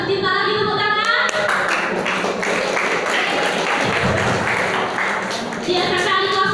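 An audience claps at a junior high school presentation, the applause steady and dense for several seconds in a reverberant room, with faint voices around it.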